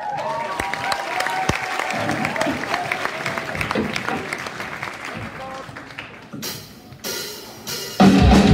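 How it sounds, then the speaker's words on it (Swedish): Warm applause from a school concert audience for a performer, a thick, sustained clapping that fades after several seconds before louder bursts of crowd noise and cheering break in near the end. "Ge en varm, ännu en varm applåd, en extra till Anton då."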